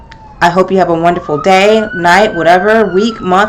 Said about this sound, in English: sorry about the sirens if you hear them